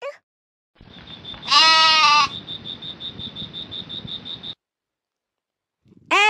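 A goat bleats in a long wavering cry over a steady high-pitched tone, with another short bleat near the end.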